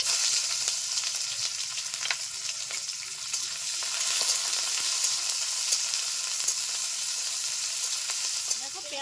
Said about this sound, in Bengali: লালচে করে ভাজা হয়েছে